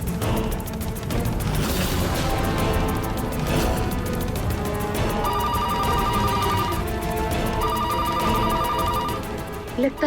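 A telephone rings in a TV drama scene, a repeating electronic ringtone pattern sounding in two bursts over background music and clatter, fairly prominent in the mix.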